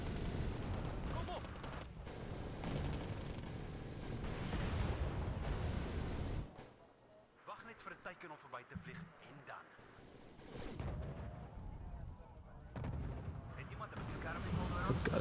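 Oliphant tanks fire in the Wargame: Red Dragon real-time battle, with repeated cannon and gunfire bursts mixed into dense battle noise. The action drops briefly to sparser scattered shots before the heavy firing resumes.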